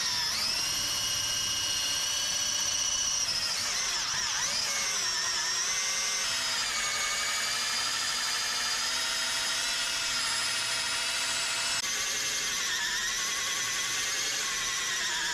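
A hole saw on a drill grinds out a traction rod bushing on a Lexus GS400, a continuous high-pitched whine that dips and shifts in pitch as it bites, close and steady throughout.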